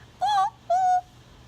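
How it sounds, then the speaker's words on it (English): A bird gives two clear, tonal calls in quick succession, each about a quarter second long, loud and close against a quiet indoor background, with no speech. "And we have a bird"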